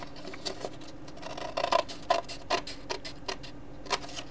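Scissors snip steadily through paper, a series of crisp cuts at an uneven rhythm over a faint background hiss.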